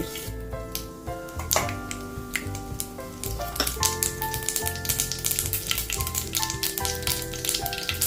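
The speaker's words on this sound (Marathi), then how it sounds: "तेल गरम झालं आता राई घालते" Mustard seeds dropped into three tablespoons of hot oil for tondli bhaji, a continuous sizzle with dense crackling and spitting pops, accompanied by steady background music, no voices.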